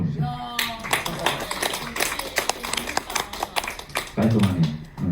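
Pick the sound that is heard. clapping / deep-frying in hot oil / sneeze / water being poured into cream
clapping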